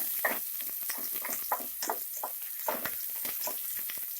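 Sliced onions fry for chicken biryani, with a steady hiss of oil under repeated scrapes and stirs of a spatula in the pan, close and fairly even throughout, no voices.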